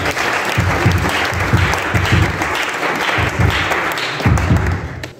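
A church congregation applauds steadily for several seconds, dense rhythmic clapping with scattered thumps from the crowd, holding a constant level before cutting off at the end.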